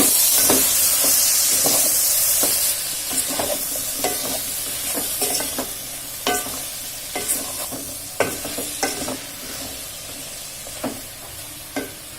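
A spiced vegetable biryani mixture being stirred in a pot, a ladle scraping and knocking in a loose repeated rhythm over a steady background sizzle, close and fairly loud, with no voices.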